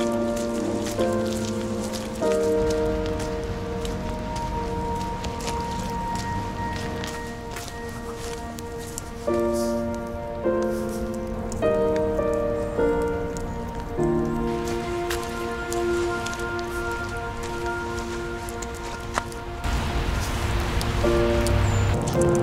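Steady rain falling on outdoor surfaces as a continuous wash of patter that runs the whole time, with occasional louder drops and faint tonal background sounds.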